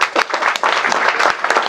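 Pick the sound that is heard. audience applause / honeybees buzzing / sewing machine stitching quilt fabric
audience applause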